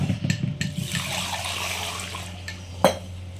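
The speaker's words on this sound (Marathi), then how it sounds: "हे तांदूळ दाखवलेलं आहे, ते स्वच्छ पाण्यानं आपण धुवून घेणार आहे" Rice is washed in clean water for chicken dum biryani, with close sloshing and swirling of water in a vessel plus a few sharp metallic clinks of the pot.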